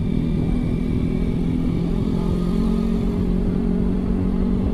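A motorcycle engine held at half throttle on a touring ride to Ujung Genteng on Sukabumi's south coast runs with a loud, steady, rough drone, close and continuous throughout, with no talking.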